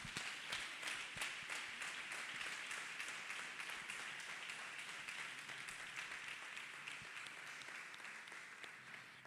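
A church congregation claps hands together in sustained, steady applause, dense and lively throughout with a cheer or two, and no speech over it.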